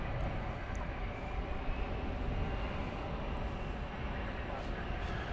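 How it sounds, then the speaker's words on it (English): An American Airlines Airbus A321 arriving on the runway at DFW airport at night, its steady broadband jet roar loud and continuous throughout with no break. "Next arrival from Seattle, flight 2657 American Airlines. It is an Airbus A321 here on runway DFW."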